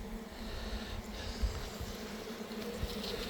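Honey bees hum around an open hive in a steady, moderately faint drone, with a few soft thumps and handling noises close by.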